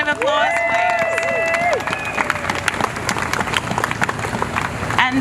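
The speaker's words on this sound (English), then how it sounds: "Can we give ourselves a round of applause, please?" Crowd applause with scattered cheers at a women's rally, a dense wash of clapping that carries on steadily for several seconds, with a voice over it near the start.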